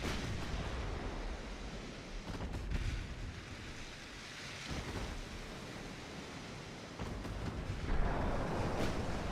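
Artillery guns fire shells in a war strategy video game, a dense rumbling barrage of booming blasts that rolls on continuously, with a heavier burst near the end.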